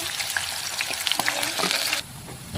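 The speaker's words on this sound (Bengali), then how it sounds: "এখন অল্প অল্প করে দিয়ে দেবো, একবারে সব ভাজা যাবে না, কয়েকটা কয়েকটা দিয়ে ভেজে নেবো।" Hot oil sizzles and spatters steadily as banana slices fry in a pan for banana chips, a continuous close crackle that softens slightly near the end.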